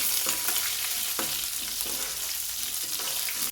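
Curry leaves frying in hot oil for a potato fry, giving a steady, close, crackling sizzle with occasional stirring scrapes throughout, ending abruptly.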